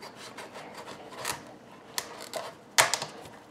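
A knife cutting a butternut squash in half on a board, heard as a series of short, close scraping and rasping strokes with a sharper crunch near the end, with no talking.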